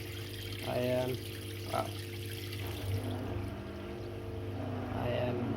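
Two washing machines run at once, giving a steady low mechanical hum with faint watery churning throughout while a person talks over it.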